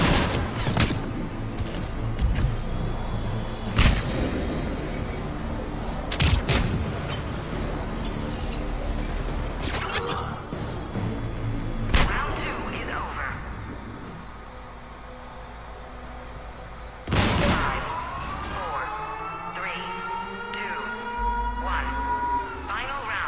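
The M7 Avenger assault rifle in Mass Effect 3's Citadel DLC fires in short sharp bursts amid combat effects, with loud cracks spaced through the clip and a whining, sweeping tone near the end.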